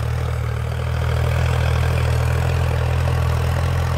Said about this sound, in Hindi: ट्रैक्टर बढ़िया काम कर लग रहा भाई